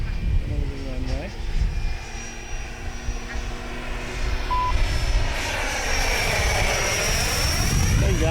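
FlyFans J-20B RC model jet aircraft on its maiden flight whines overhead, a continuous ducted-fan tone that swells and sweeps as it passes, with voices talking intermittently beneath it.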